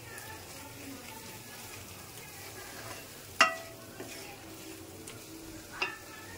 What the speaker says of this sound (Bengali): তো এইভাবে ভালো করে আমি ডিমটাকে ভেজে নেব।